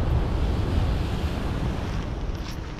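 High sea waves surge and wash continuously close by, a loud, dense roar mixed with heavy wind buffeting the microphone, with no voices.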